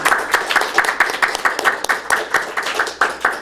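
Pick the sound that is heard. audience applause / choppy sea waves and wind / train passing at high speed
audience applause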